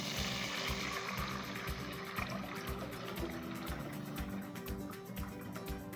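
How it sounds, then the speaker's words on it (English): Warm water poured into a pot of rice on a stove with garlic cooking, a steady close splashing trickle with rhythmic bubbling underneath. "now I'm adding some warm water"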